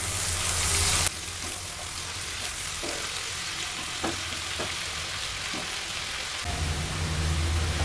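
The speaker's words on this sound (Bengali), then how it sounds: "এবার মশলাগুলোকে মিডিয়াম টু হাই ফ্লেমে 2 মিনিট কন্টিনিউ নাড়াচাড়া করে হালকা লাল করে ভেজে নিচ্ছি" Spices and ginger-garlic paste fry over medium-high flame while being stirred constantly. A dense, continuous sizzle carries periodic scraping strokes of the spoon against the pan, heard close with no voices.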